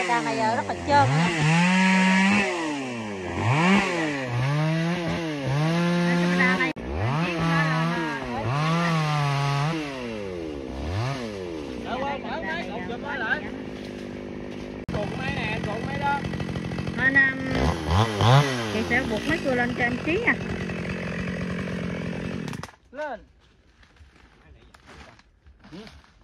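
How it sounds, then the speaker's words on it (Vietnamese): A chainsaw cuts a very large eucalyptus tree with slippery bark, its engine rising and falling in repeated revving sweeps for over twenty seconds before cutting off abruptly, with voices talking over it. "nhóm sẽ cưa cây bạch đàn này như thế nào nha"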